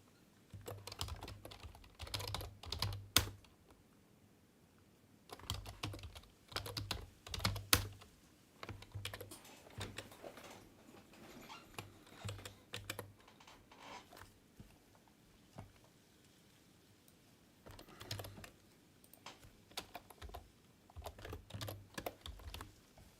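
Quiet bursts of rapid keystrokes on a computer keyboard come in clusters separated by short pauses, close and fairly soft, with no talking.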